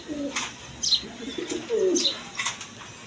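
A Pashiraj pigeon coos in thin, repeated calls at close range, with wing flaps and chirps from other pigeons nearby.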